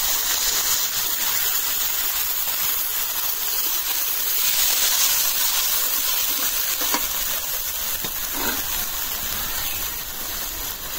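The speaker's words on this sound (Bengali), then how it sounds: "এখন মশলা কষানোর জন্য একটু পানি দিয়ে দিই।" Spices hiss in a pan after water is poured in, a loud, continuous, close steam sizzle that holds steady and eases slightly toward the end.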